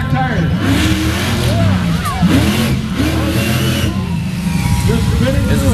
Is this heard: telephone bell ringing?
no